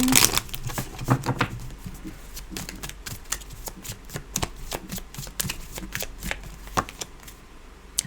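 Tarot cards being shuffled in a steady flurry of crisp riffles and flicks, close up, with a brief pause near the start.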